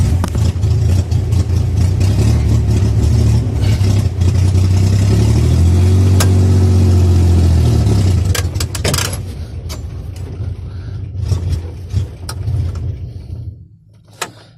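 A Chevrolet Corvair engine starts up for the first time and runs loud and rough, its pitch rising and falling with revs, then cuts off, leaving clicks and knocks before quiet.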